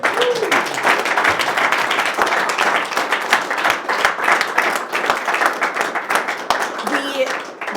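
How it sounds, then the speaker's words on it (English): Audience at an open-stage community performance night clapping in a sustained burst of many hands, with voices and a few cheers audible amid the applause. "This is when we clap it up."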